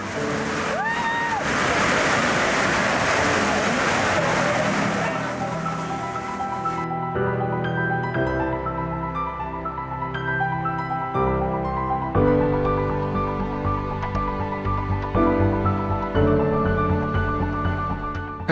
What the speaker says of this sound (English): the boat is gliding over the waves past Red Rock and onto the finish line